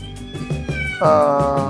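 A farm cat meows repeatedly at close range, with a louder, drawn-out meow near the end, heard over a low rhythmic background hum.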